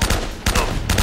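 M4 rifle gunfire in Uncharted: Drake's Fortune sounds as three loud, sharp shots in quick succession, each with a brief ringing tail.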